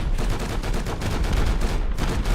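Rapid, continuous gunfire in Zombie Land, a circle barrage attack pounding without pause, loud and dense, the bursts blurring into one another.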